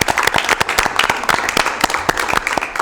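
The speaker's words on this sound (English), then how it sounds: "Round of applause." Applause from a meeting audience at the Sacramento Air Quality Management District, a steady patter of many hands clapping close by for a couple of seconds, with no talking over it.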